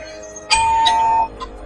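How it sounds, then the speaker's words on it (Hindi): A doorbell chimes with a bright two-tone ding-dong, clear and close, followed by a faint third tap as it fades. "एक दिन संडे वाले दिन किसी अजनबी ने दरवाजे की घंटी बजाई"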